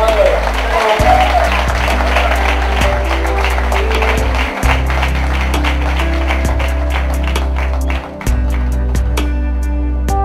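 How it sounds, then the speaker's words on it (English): Wedding guests clap their hands in a steady rhythm during a church worship song. The sharp, even claps sit over loud sustained music with voices. "Let's clap our hands for God again."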